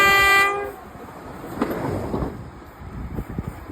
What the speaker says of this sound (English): film a train, it toots its horn.